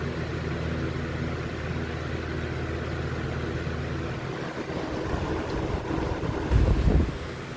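A 1998 Holmes HABF-20 fan runs steadily, giving a broad airy rush with a low motor drone underneath, continuous and close, with a brief louder gust of buffeting near the end.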